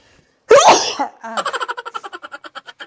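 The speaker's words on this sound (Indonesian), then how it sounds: "Waktu suami buka dusnya langsung saya bersin" One sharp, close sneeze, followed by a quick run of short, evenly spaced pulses that fade out.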